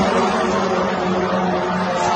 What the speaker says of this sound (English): This is the sound of the Shahed-136, one of the most controversial drones of the 21st century.